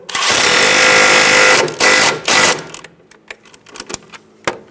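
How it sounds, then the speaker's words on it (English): Brake line bracket bolt on a Subaru Outback being snugged with a power tool, a loud buzzing whir for about two seconds, then short bursts and scattered clicks and taps. "Snug the bolt down."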